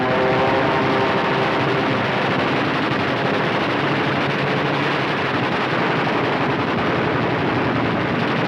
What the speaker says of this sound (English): Now it was for the Germans to learn the terrors of strafing.